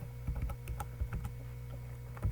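Fingers type C code on a computer keyboard in a steady run of light, close key clicks lasting a couple of seconds over a constant low hum, with no talk.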